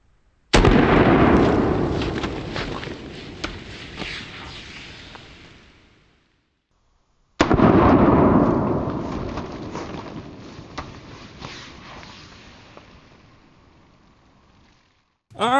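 Two loud, sharp shots from a LifeCard .22 WMR pocket pistol fired at cans at close range, several seconds apart, each a sudden crack followed by a long ringing, fading decay.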